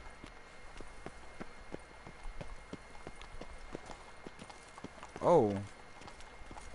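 Horse hooves in the video game The Witcher 3 beat in a steady, quick clip-clop rhythm at moderate volume, with a short exclamation from a voice near the end.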